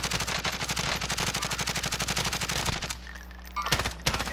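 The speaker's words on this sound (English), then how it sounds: "Shots from two different guns." Rapid close gunfire pours out in a steady automatic stream, then breaks off into a few separate sharper shots, suggesting two different guns firing.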